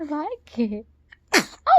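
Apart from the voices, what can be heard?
baby sneezing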